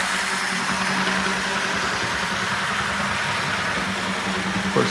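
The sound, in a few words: brass model steam locomotive motor running on track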